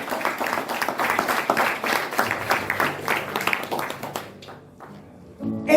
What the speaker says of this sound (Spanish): Si le das ese aplauso al Señor